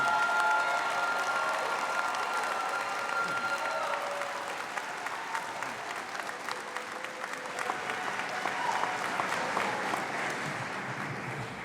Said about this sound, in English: How about we give our newly minted graduates one more round of applause?